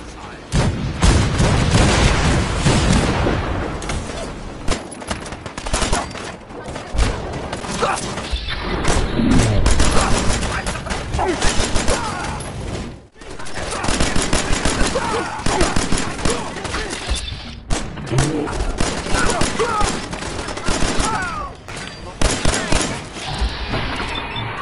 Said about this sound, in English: Prepare to broadside!